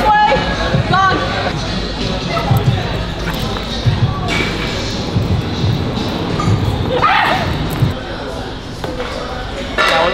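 A dog barks, yips and whimpers close by in short repeated bursts, mixed with people talking and excited voices calling out.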